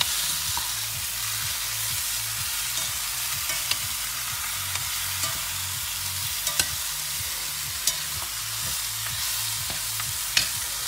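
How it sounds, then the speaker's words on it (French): Beef searing over high heat in a casserole for a Flemish carbonnade, a steady loud sizzle with stirring, a low rhythmic pulsing beneath and a few sharp spatters and pops, no talking. "Il faut vraiment que la viande soit bien saisie"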